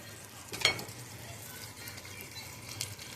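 Pork chops frying in a skillet with sauerkraut, a low steady sizzle with a brief scrape or clatter of the pan early on and a softer stir later, no speech.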